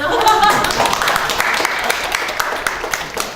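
Audience clapping during a Korean lecture on culture and community, a short burst of hand claps that starts fuller and thins into lighter, scattered taps, with a voice briefly heard at the start.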